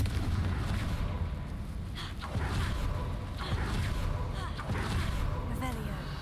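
The Confringo spell blast in Hogwarts Legacy lands as a dense, rumbling burst of explosive booms and whooshes that carries on loudly throughout, with a voice speaking over it.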